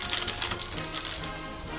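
Packaging of North Korean ginseng soap with Kaesong origin being opened by hand, a quick run of close, light crinkling and tapping rustles over about two seconds.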